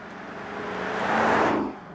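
2018 Lexus LC500 V8 coupe in manual mode, a steady broadband engine and road roar that swells to a peak and then eases off, loud and close with no voices.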